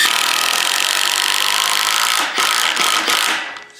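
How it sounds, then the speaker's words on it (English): An impact driver sinks screws into the wood of a new bridge under assembly, a continuous loud buzzing whir that breaks into short bursts and stops near the end. "the way to do this is with an impact, not just a regular drill"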